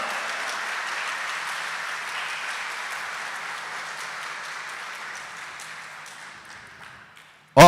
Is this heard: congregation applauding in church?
yes